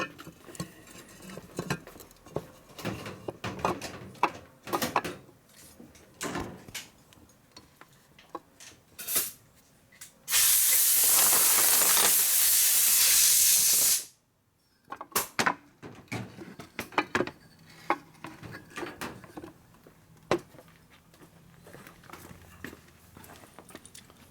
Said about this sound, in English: We'll blow those off real quick.